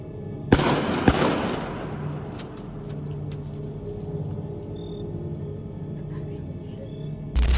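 Gunshots near a camping van outdoors: two sharp, loud cracks close together, each followed by a long echoing rumble that fades into a low background hum, with a thud at the very end.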